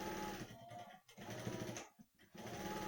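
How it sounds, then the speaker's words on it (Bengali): A sewing machine stitches a seam on a blouse with a fast, steady mechanical whir and needle clatter, pausing briefly twice before resuming, close and fairly quiet. "এরকম সমান করে দাগ সেলাই করে দেবো।"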